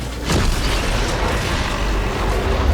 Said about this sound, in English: With the first energy pulse happening today